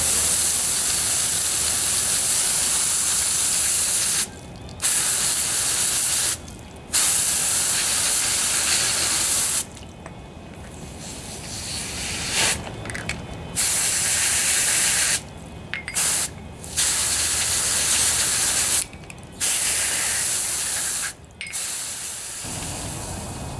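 Carburetor cleaner sprays onto a John Deere lawnmower carburetor in loud sustained hissing bursts, separated by several short pauses, close to the microphone.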